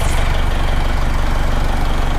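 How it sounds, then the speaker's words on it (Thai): A Mitsubishi Triton pickup truck engine idles steadily, a low, even rumble with a rhythmic chug and no voices. "นี่นะครับเสียง เสียงเครื่องยนต์นะครับ"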